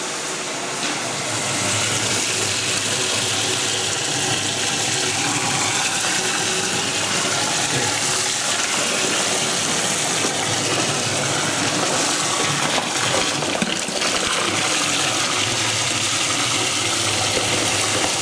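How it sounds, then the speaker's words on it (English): Garden hose spraying pressurised water into a moonshine mash of sugar and grain to aerate it, a loud continuous hissing gush that stays steady and close throughout. "he's putting his thumb over the end of our hose here to spray it and put some pressure"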